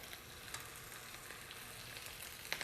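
Spinach sizzles steadily in olive oil in a pan, a soft continuous crackle with occasional small pops and stirring, close and fairly quiet.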